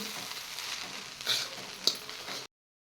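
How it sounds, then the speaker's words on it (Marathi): Poha being stirred in a pan with sugar, a soft sizzle with scraping spoon strokes and a couple of sharper clinks against the metal, close and steady before cutting to silence. "आणि पुन्हा आता एक मिनिटभर हे पोहे हलवून घ्यायचे आहेत म्हणजे याच्यात साखर छान मिक्स होईल"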